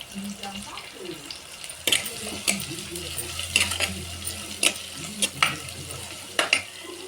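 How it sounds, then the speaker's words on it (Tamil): Ginger garlic paste sautés in a pan for a crab masala, with a soft sizzle and repeated sharp scrapes and clinks of a spoon stirring against the pan. A voice talks in the background. "நல்லா வதங்கின பிறகு அடுத்து இஞ்சி பூண்டு பேஸ்ட்டை போடுங்க"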